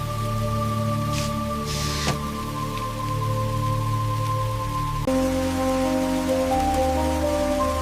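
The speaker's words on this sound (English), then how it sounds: "All right, time to face the rain. Ooh, heavy, but worth it." Heavy rain hisses steadily on a surface during a rainstorm at a campsite, with a low constant hum underneath and a few louder splashy gusts.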